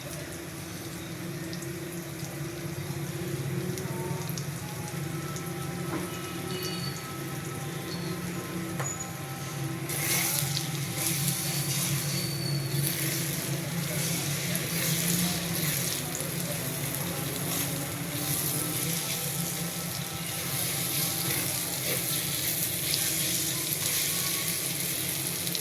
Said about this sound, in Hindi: अब हरी मिर्चें डाल देते हैं, कटी हुई हरी मिर्चें, और साथ ही डालेंगे गरम मसाला पाउडर।